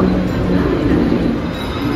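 A crowded Mumbai local train runs from Thane toward Juinagar, heard from inside as a loud, continuous rumble with squealing wheels and rattling carriages.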